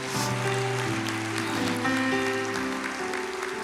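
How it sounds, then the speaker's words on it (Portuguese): Steady applause during a church service fills the space while sustained organ-like music plays underneath. "Vamos aplaudir ao Senhor."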